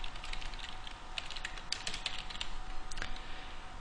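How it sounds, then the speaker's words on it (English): Steady, rapid clatter of keys as a password is typed on a computer keyboard, close and fairly quiet, continuing without pause and with no voices. "Choose a password, retype the password to make sure I didn't make a typo."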